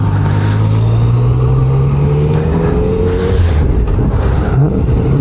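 A motorcycle rides through city traffic, its engine droning steadily and loudly up close, with rising and falling pitch as it accelerates and wind rush throughout, no talk.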